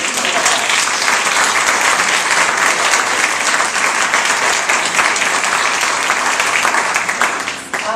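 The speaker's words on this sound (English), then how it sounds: "So a big round of applause." An audience at a school board meeting gives loud, sustained applause, dense clapping that holds steady for several seconds before tapering off abruptly at the end.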